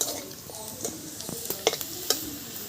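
Dried red chilies, garlic and onion stir-fried in hot oil in a pan, a quiet sizzle broken by a few sharp spatula scrapes and clinks near the end, close by and without talk.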